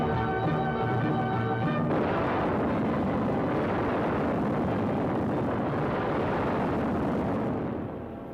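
Bombs explode in a 1943 wartime film, a sustained loud roar of blasts and rumbling debris following a brief musical passage, fading at the end.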